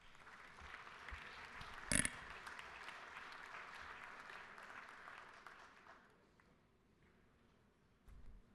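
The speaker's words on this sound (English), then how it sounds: "so y'all give them a round of applause" Applause for a group of visiting middle school students in the Georgia House chamber, a sustained patter of many hands with a sharp bang near the start, fading away after about six seconds to near quiet.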